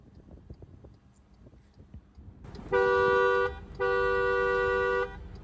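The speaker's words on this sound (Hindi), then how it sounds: "डुअल हॉर्न है" The dual horn of an MG ZS Astor Sharp 220 Turbo car honks twice in long steady blasts, loud and close, the second slightly shorter, with a quiet background before.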